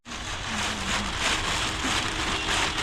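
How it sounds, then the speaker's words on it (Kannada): Steady rain pattering on surfaces around a jeep ride toward a waterfall in Chikkamagaluru, a dense even hiss that continues throughout, fairly loud and close, with no speech. "ಹಿಂಗೆ ಇರಲಿ ಮಳೆ ಅಟ್ಲೀಸ್ಟ್."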